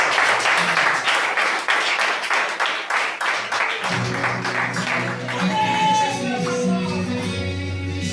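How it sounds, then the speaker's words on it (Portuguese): A church congregation applauds at a Portuguese-language worship service, loud rhythmic clapping in time that gives way midway to music and voices carrying on over it. "Aplauda Jesus."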